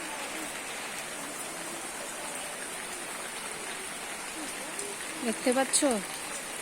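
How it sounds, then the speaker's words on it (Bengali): Heavy rain falls outside, making a steady, even hiss that fills the whole stretch, and a voice speaks briefly near the end. "দেখো বাইরে কত বৃষ্টি হচ্ছে"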